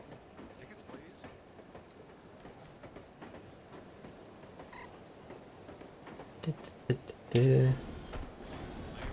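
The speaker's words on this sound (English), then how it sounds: "I love riding the train" Train ride ambience in the spy game No One Lives Forever: a steady low rumble with faint rhythmic clicking runs throughout, under sparse talk, with a louder burst of noise near the end.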